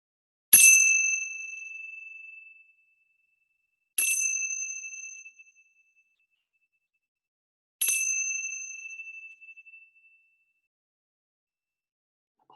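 Three separate strikes of a small bright cymbal, each ringing out clearly in silence and decaying slowly over about two seconds, spaced roughly four seconds apart.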